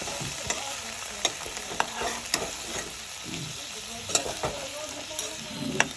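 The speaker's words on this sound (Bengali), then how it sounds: "আমি একটু হালকা করে এবার এরকম ফিরাই ফিরাই দিই।" Pangas fish paturi frying in a pan with a steady close sizzle, punctuated by several light clinks and taps as the pieces are turned over.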